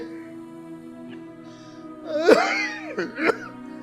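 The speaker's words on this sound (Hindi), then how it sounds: "इस खांसी ने मेरी जान ले ली।" A person gives a few harsh, strained coughs over a steady droning background, with a groaning quality to the fits.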